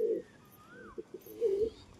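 A female pigeon coos softly nearby in two short low bursts, with a faint whistle between them and no voices.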